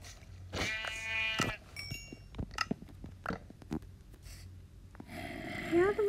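Sheep in Minecraft bleat in a few short, close calls, mixed with scattered game clicks and blips, while a person is also faintly audible in the background.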